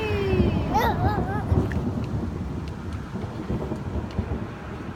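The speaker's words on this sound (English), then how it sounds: "here comes the rain" Rain and distant thunder in an outdoor setting, a steady wash of rainfall with low rumbling underneath, while a few faint voices and a passing whistle-like sound come through near the start.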